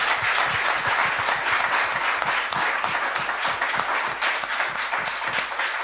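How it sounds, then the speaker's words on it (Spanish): A church congregation claps together in strong rhythmic unison, the beat steady and loud, with cheering voices mixed in throughout. "¿Puedes darle un aplauso al Señor?"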